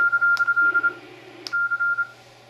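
A steady electronic tone from a radio receiver in FM mode on the 160-meter ham band keeps switching on and off in short pulses, broken by two sharp clicks, with a low hum underneath.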